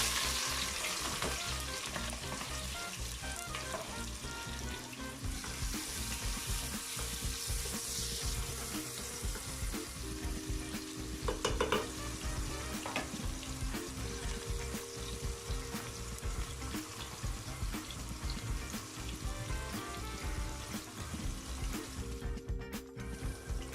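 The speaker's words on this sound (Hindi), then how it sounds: "हमारा ऑयल गरम हो चुका है, अभी मैं इसमें ऑनियन डाल देती हूँ।" Onions frying in hot oil for a paya stew, a steady close sizzle running throughout with light stirring and utensil clatter over a low background hum.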